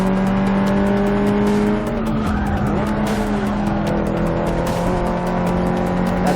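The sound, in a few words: Audi Quattro racing engine in Forza 6 video game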